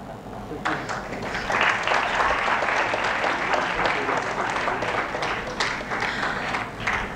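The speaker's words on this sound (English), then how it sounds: "please a round of applause for him as we welcome him here today" A large audience breaks into full, steady applause to welcome a guest at a formal event, the clapping rising quickly and staying dense and loud before easing slightly at the end.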